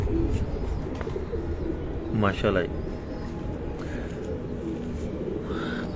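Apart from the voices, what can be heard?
golden pigeon cooing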